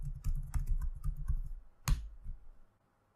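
A terminal command and a password are typed on a computer keyboard: a quick, close burst of keystrokes, a single sharper press, a few last taps, then silence.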